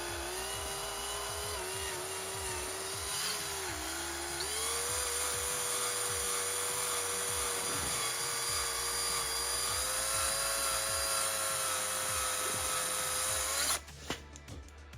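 A drill whines steadily at high pitch while drilling slowly into metal on a 1999 Subaru 2.5 DOHC engine, its tone shifting slightly as it bites, running continuously before stopping abruptly near the end.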